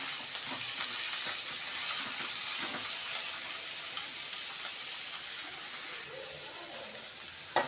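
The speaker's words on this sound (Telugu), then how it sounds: "దీనిలోనే ముందుగా కడిగి పెట్టుకున్న బీరకాయ పొట్టు వేసుకుంటున్నానండి. ఇది బాగా వేయించుకోవాలండి." Washed ridge gourd peel fries in a pan with a continuous soft sizzle and hiss, moderately quiet and steady throughout, with faint stirring.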